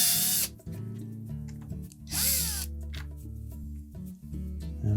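A power driver spins 1/4-inch hex head screws out of a Whirlpool washer's water inlet valve: two close, sharp whirring bursts over a steady low background hum.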